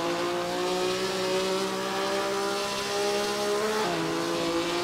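Race cars in a sim racing game, a Stirling Moss tribute race, drone with loud, steady engine whine heard onboard, the pitch shifting as gears change, continuous with no talk.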